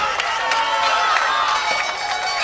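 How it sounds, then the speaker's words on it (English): A crowd of boxing fans cheering and shouting at a fight night in Llanelli, Wales, a steady roar of voices and whoops filling the hall throughout. "A big cheer go up from the fans here in Llanelli"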